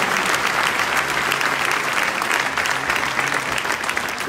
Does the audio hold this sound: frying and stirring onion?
no